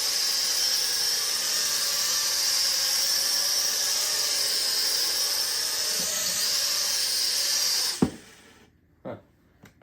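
Small $20 Black Panther toy drone flying, a steady high-pitched whine of tiny propellers that cuts off abruptly as it lands, followed by a few faint knocks.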